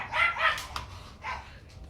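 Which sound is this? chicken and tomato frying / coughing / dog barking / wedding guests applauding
dog barking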